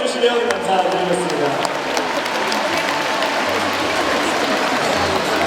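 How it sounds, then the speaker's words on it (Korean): Big stadium crowd at an SSG Landers baseball game at SSG Landers Field applauds after a ceremonial first pitch, a broad, continuous roar of clapping and cheering with a few sharp claps standing out early. "세 분에게 박수 한번더"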